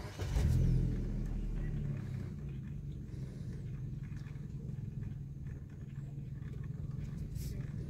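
A Maruti Suzuki Baleno Alpha car driven by a learner gives a steady, close engine drone with a brief louder rev at the start, continuing evenly throughout.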